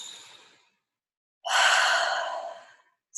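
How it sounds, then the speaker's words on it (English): A slow, deep breath during a guided meditation: a soft exhale tails off, a pause of silence follows, then a long, full breath rises and fades, close and clear, with no speech. "Taking a nice deep breath."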